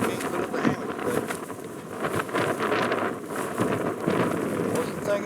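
Steady, loud wind noise buffets the microphone outdoors at a hammock campsite, a broad rushing roar with gusty surges throughout, no voices.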